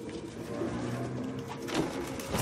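Pigeons or doves cooing in the video game Detroit: Become Human, a steady low murmur of coos over a dense ambient bed, fairly close and continuous.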